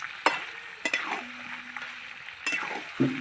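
Meat browning in a pan is stirred, giving a few sharp scraping clacks of a spoon against the pan over a steady soft sizzle, close and fairly quiet, with no talk.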